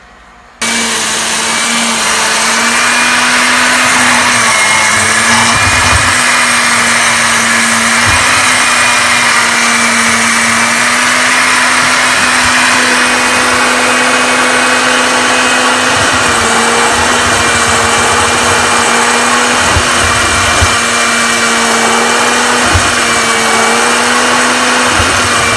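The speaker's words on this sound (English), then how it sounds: "all of this stuff right here plus this chicken feed is going to go inside the blender." A blender grinding chicken feed with other roach chow ingredients whirs loudly and steadily for a long stretch, its motor pitch wavering slightly as it grinds, with brief dips and bumps along the way.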